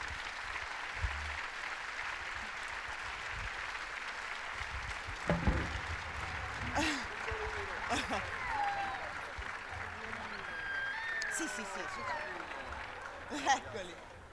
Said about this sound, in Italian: Un applauso a chi ha messo al mondo 3 gioielli.